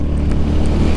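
Royal Enfield Hunter-Ceptor cafe racer motorcycle engine running, a loud, steady low rumble heard up close while riding.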